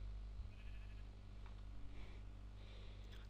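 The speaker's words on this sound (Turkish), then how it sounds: "Bildiğiniz koyun." Bleating of a sheep from the Minecraft Animal Bikes mod, a few soft, thin calls sitting low and faint over a steady hum of game background noise.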